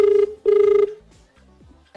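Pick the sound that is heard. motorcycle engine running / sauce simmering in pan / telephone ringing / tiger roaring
telephone ringing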